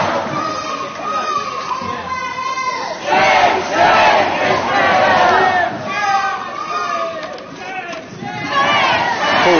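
A loud demonstration crowd, with pro-Palestine protesters facing a pro-Israel counter-demonstration, chants and shouts close by, with several raised voices overlapping in surging waves.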